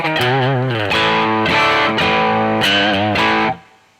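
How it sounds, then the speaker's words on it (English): Overdriven electric guitar through a NUX MG-300 modeling processor with a Blues Driver effect, playing a few sustained chords and bent notes, loud and close, with a crisp fade at the end. "let's say we wanted to introduce a little bit of dirt here. We can put in a blues driver,"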